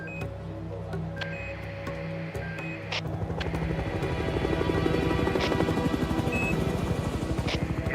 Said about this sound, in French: Ils sont dans l'hélico. Ils arrivent.